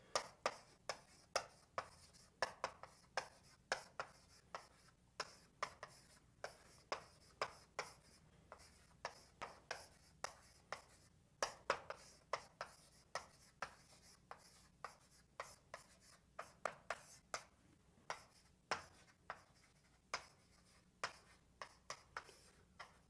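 Pen or marker writing on a board during a calculus lecture on vectors and dot products: a steady run of short, close scratching strokes, many per second, with brief pauses between words and no talk.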